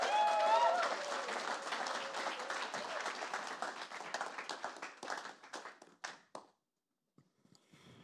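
A crowd applauds warmly, the clapping thinning into scattered claps before fading to near silence, with a few last taps at the end.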